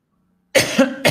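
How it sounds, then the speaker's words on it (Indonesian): A man with a lingering cough coughs twice, close and loud, after brief silence. The first cough is longer and rougher, and the second is a short sharp burst. "masih ada sedikit batuk saya"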